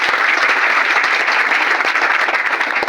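An audience at a business event bursts into loud, dense, continuous applause, a close and even roar of clapping with no talk over it.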